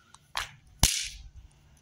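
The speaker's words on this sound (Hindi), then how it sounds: "यहाँ पटाखे फोड़ते हुए" Two sharp firecracker pops in quick succession during Dhanteras festival celebrations, the second louder and crackling briefly, close by against a quiet night background.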